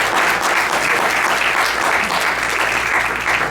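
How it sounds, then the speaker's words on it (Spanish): A church congregation breaks into loud, sustained applause, dense and steady with no pauses, filling the room evenly from start to finish. "Vamos a darle un aplauso al Señor."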